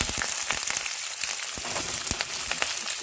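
Onion frying in hot oil with chana dal and green chillies, a steady dense sizzle with frequent small pops and crackles, close and continuous.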